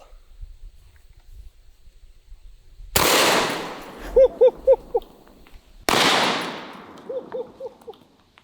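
A Miculek 940 Pro semi-auto shotgun fires heavy birdshot game loads at a watermelon in two loud, sharp blasts about three seconds apart, each followed by a ringing tail and several short echoing pops.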